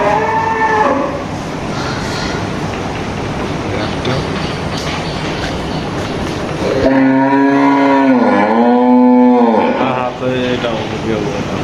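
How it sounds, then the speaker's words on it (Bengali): Buffalo on a farm lets out a loud, drawn-out moo with a bending pitch, coming in over steady livestock-yard background noise and other cattle. "আর এই সেটা হচ্ছে মহিষ"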